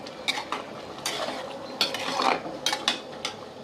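Fried prawns and pointed gourd curry stirred in a pan, a series of close scraping and clinking strokes of a spatula against metal in an irregular rhythm.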